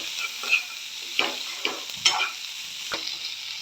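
Tomatoes fry with onion, garlic and cumin for Marathi shev bhaji in a soft, steady sizzle, with a spatula scraping and stirring the pan in several distinct close strokes.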